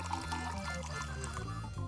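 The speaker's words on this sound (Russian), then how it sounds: "Заливаем водой до половины." Water poured into a silicone mold, a soft, continuous splashing trickle heard up close over a quiet background with faint musical tones.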